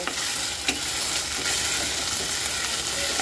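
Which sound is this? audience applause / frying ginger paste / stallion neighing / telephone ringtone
frying ginger paste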